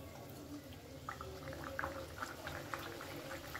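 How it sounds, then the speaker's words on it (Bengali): Luchi, small puffed flatbreads, fry in hot white cooking oil in a wok over a medium flame, giving a steady, soft bubbling sizzle with small pops throughout, close by. "এবারে আমি একটা একটা করে লুচি ভেজে নেব।"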